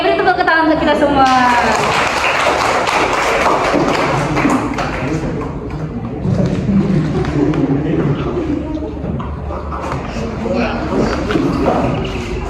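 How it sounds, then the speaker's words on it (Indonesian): A classroom group in a guidance session claps together, a burst of mixed hand claps and taps that carries on under voices and chatter, some near and some further back. "beri tepuk tangan untuk kita semua"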